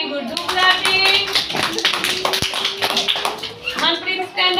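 Young children in an LKG classroom clap together during a fruit-naming activity at school. The sharp claps are dense and steady, running throughout at close range, with a voice briefly heard under them.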